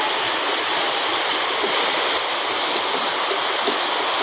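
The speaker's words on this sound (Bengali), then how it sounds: "দেখো খুব জোরে জোরে বৃষ্টি হচ্ছে" Heavy rain pours down steadily during a prolonged downpour at a home, a dense, constant rushing wash of water with no breaks, loud and close.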